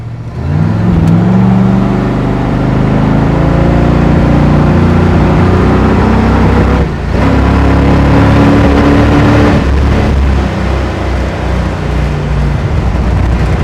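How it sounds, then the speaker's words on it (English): A 1970 Chevrolet Chevelle SS with cowl induction idling loud and close, its deep rumbling engine held up on the throttle, the tone rising and shifting with small revs and one brief dip midway. "I have to keep my foot on the throttle to keep the car running."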